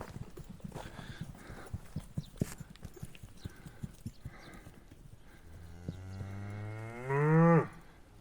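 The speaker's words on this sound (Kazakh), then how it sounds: "Қазір міне мынау сауынды сиырлар." Milking cows on a village farm, hooves clip-clopping for several seconds, then one long, loud, close moo that rises and swells near the end.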